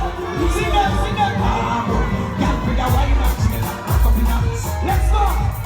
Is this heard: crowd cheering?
yes